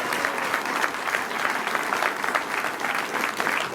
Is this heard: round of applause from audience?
yes